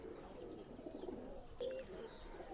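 Lal Pari pigeons coo softly in a loft, low murmuring calls faint against background hiss, with a brief clearer coo partway through.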